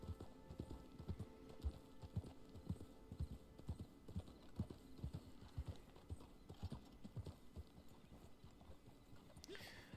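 Horse hooves clip-clop steadily on a trail in Red Dead Online, a quick even rhythm of close, distinct footfalls over a low background hum, with no talk.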